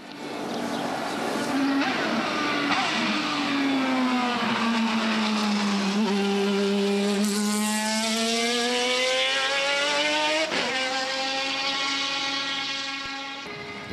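A BMW V12 LMR race car laps the twisty Jarama circuit in Spain, its V12 engine note rising, dipping through a corner and climbing again, loud and sustained, with a sharp shift near the end.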